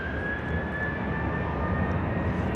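A Cathay cargo jet taking off at Dallas Love Field airport, a steady loud roaring engine drone with a sustained high whine, continuous and close, no voices.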